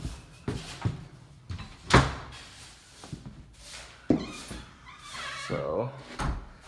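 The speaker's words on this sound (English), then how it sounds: "This is actually the screen door." The screen door of a historic home creaks and clatters through repeated knocks, rattles and thumps, close by, with people talking throughout.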